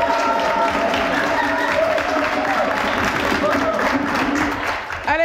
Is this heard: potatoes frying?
no